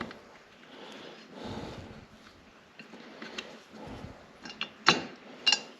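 An Allen wrench tightening bolts on Boonedox Groovy landing gear fitted to an NRS Kuda 126 kayak, with quiet close ratcheting clicks and metallic ticks, a few sharper taps near the end.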